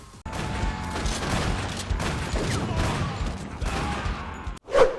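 Sustained gunfire from a science-fiction horror film set on Mars, dense bursts of shots blending into a continuous loud barrage, cut off abruptly near the end by a sharp different sound.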